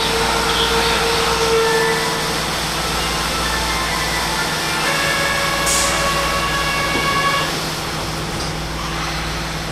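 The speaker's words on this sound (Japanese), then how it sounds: "渦政天神川行き発車です。" A Kyoto subway train departs Rokujizo station, a loud steady motor drone and rumble with whining tones that eases slightly toward the end.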